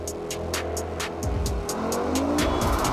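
All-wheel-drive performance car, an Audi RS 3 or BMW M240i xDrive, kicked into a drift with its engine roaring hard and tires squealing continuously, rising in pitch through the slide, loud and close with no talking.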